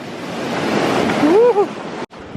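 Ocean surf washes onto a beach in a broad, roaring rush with wind buffeting the microphone, and a brief voice-like call rises near the end before a sudden cut.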